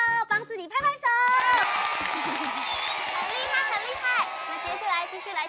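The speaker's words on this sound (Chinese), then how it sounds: "帮自己拍拍手" Young children clapping their hands on a kids' TV show, lively claps mixed with cheering and shouting voices after a bright adult voice speaks.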